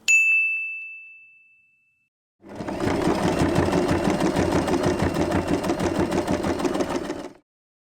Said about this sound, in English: Attach this fabric strip to the center of the bow and sew it in place.